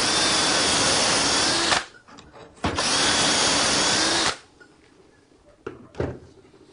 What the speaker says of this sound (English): And drill the last 2 holes.